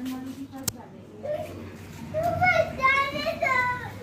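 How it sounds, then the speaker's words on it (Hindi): Young girl crying at bath time at home, wailing, rising sobs and cries that build louder toward the end after a sharp click, with an adult voice nearby. "रोने की आवाज आ रही है ना"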